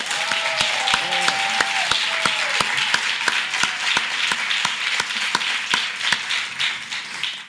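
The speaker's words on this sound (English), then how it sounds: "a hearty round of applause" Hearty applause from an audience at a theater grand re-opening, dense steady clapping with sharp individual claps standing out, sustained for several seconds before tapering off at the end.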